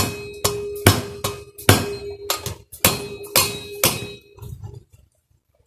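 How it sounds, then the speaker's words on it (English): A soft-tip screwdriver smacks the valves on a Mitsubishi Mirage cylinder head during a rebuild, about a dozen sharp, ringing metallic taps in an uneven rhythm, close and loud, each with a short clanging ring before fading. "Just use this, a screwdriver with a soft tip, to smack it."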